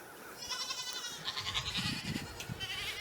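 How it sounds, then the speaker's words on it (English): Several goats bleat in overlapping, wavering cries on a foggy farm morning, moderately close, against a background of steady outdoor noise. "And we have 11 goats"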